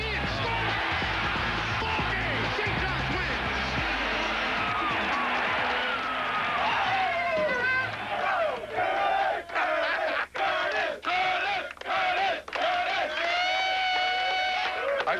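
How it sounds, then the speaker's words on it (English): Excited crowd at a St. John's college basketball game roars loudly and steadily, then breaks into rhythmic bursts of cheering and chanting, with a commentator talking over the noise. "The crowd's excited."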